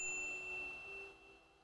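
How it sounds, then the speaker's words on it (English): A single bright notification ding rings out cleanly and fades over a second and a half, alone with no voices. "ring the bell to be notified about our latest videos"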